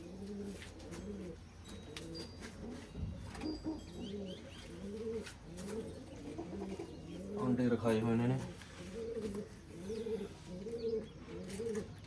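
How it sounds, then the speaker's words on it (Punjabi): Pigeons in a coop coo in a soft, repeating rhythm close by, with a person talking over them and a brief burst of louder cooing midway. "ਇਹ ਉਹ ਕਬੂਤਰ ਆ ਸਾਨ ਕਬੂਤਰ ਹੈ ਆਪਣਾ ਖੁੱਡੇ ਦਾ"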